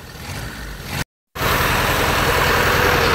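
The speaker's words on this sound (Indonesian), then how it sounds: "Ini kan dalam kondisi mesin hidup." A car engine idles with a steady, even hum, close by. There is a brief total dropout in the middle, and the engine continues at the same level afterward.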